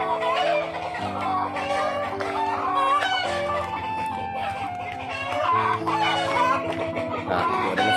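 Chickens cluck repeatedly nearby, a busy overlapping chorus of clucks and calls over a low steady hum.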